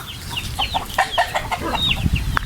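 A rooster clucks in short, rapid bursts nearby, with some low rustling and scuffling underneath.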